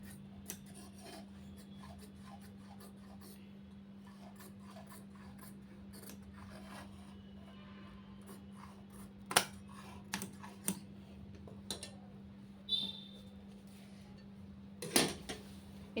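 Scissors cutting blouse fabric, faint scattered snips and rasping cuts against a steady low hum, with a few sharper clips near the end and no talking.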